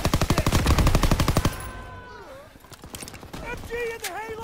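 Rapid machine gun fire in the Call of Duty WW2 D-Day game bursts loudly for about a second and a half, then gives way to whistling, warbling battle effects and quieter background sounds.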